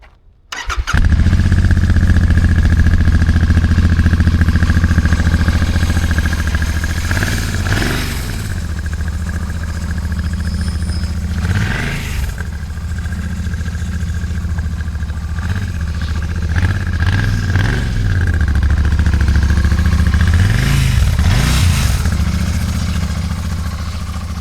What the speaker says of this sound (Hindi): गाड़ी चालू करके देखते हैं गाड़ी कैसे साउंड करती है।